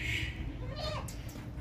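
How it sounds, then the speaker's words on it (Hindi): A healthy Teddy-breed billy goat gives a short nasal bleat at close range over a steady low background hum. "ये देखें हेल्दी बकरा है"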